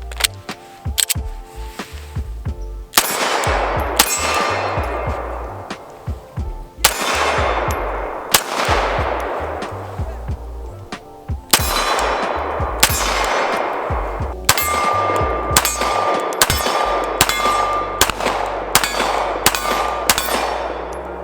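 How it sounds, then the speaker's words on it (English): Repeated sharp shots from a Salient Arms STRIKE Tier 1 pistol, fired in irregular strings with metallic ringing tails, loud and close, no talking. "I'm gonna load this thing up and put about 100 rounds through it"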